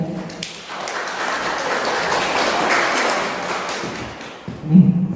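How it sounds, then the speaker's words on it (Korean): An audience at a talk in an art museum claps to welcome a speaker. The applause is moderate and fairly distant, and it fades out toward the end, where a few louder thumps sound nearby. "박수를 받아주세요."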